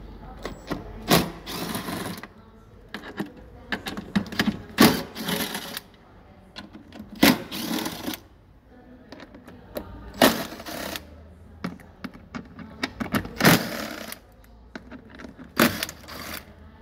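Bolts of 6 mm are worked loose from a 2020 Toyota Hiace Commuter dash panel, sounding as a series of sharp ratcheting clicks and metallic rattles in irregular bursts, fairly close and with no voices.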